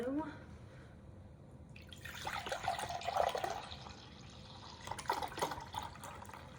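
Water pours steadily into a container with a bubbling, splashing rush, swelling louder midway, while a voice talks faintly underneath.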